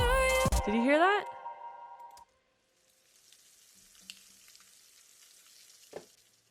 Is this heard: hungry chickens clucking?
no